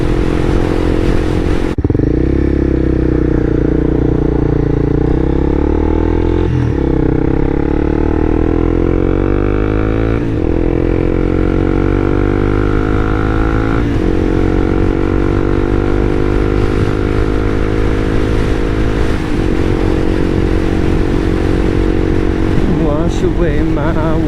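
A Honda CBR300R motorcycle cruises toward a lake and state park on a sunny day, its loud engine droning close and continuously, pitch climbing through each gear before dropping at several shifts.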